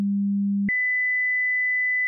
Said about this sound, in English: I'm going to play two tones that are actually being played at the same level of loudness